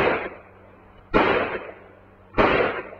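A carbine fires three sharp, loud shots about a second and a quarter apart, each a crisp crack that fades out quickly, from a 1943 US Army training film.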